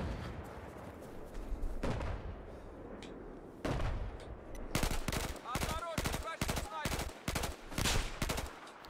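Mortar and gun fire in Battlefield 4 on the Caspian Border map: a few heavy, spaced blasts, then a loud rapid run of close, rhythmic bursts hammering steadily to the end.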